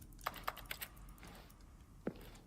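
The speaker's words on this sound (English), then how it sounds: "Button sounds, a selection of the sounds used throughout the game when buttons are pressed" Several short button-press clicks from The Stanley Parable, a quick cluster of sharp taps followed after a pause by one more isolated click, crisp and close against a quiet room-tone background.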